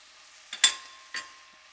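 Vegetables dropped into hot fat in a pan for migas, giving two brief sizzling bursts about half a second apart that fade quickly against a quiet background.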